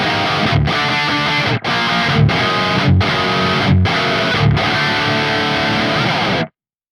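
High-gain distorted electric guitar through the Archetype Gojira hot amplifier, playing loud, dense palm-muted rhythm chugs with a steady pulse of accented hits and brief stops, ending abruptly.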